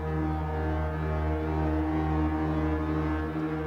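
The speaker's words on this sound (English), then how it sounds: "This is like a brass sound from Serum." A sustained brass-style synth tone from the Serum synthesizer, heavily modulated and run through a delay, holds a loud, steady chord with stacked harmonics and a slow wobble for several seconds, with no voices.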